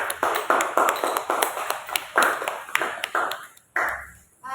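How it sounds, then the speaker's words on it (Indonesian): In a microteaching classroom, a small group claps for the first student group: distinct, separate hand claps in a loose, uneven rhythm, fairly close, tapering off near the end. "tepuk tangan untuk kelompok 1"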